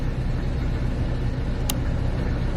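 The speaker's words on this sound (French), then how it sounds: "Du coup là je suis dans un bus" The interior of a moving bus carries a steady, loud low engine and road rumble, broken by one brief sharp click.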